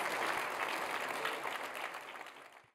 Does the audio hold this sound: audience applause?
yes